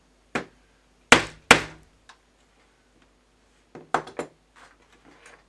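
Hammer taps on a Roberts R707 radio: a few sharp, isolated knocks, two hard strikes near the start and a softer cluster later, with quiet gaps between.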